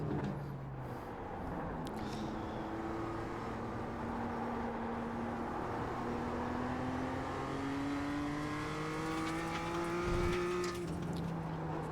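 A BMW M2 race car at Oschersleben in the iRacing simulator, with an engine droning steadily and revving up through rising gear sweeps, tires squealing faintly and a brief bump near the end, no talk.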